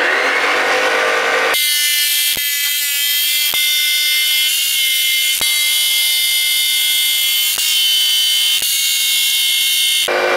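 Power tool cutting out a mold, a loud, high, whining tone starting after a brief rising spin-up and holding steady, with short regular breaks as the cut proceeds, no talking.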